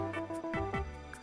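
FL Keys plugin on its E-piano preset, a few soft electric piano notes played close, moderately quiet, with no voices.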